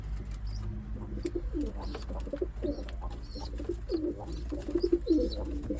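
Pigeons in a loft coo in soft repeated phrases, several birds overlapping near and far over a low steady hum, with occasional faint chirps.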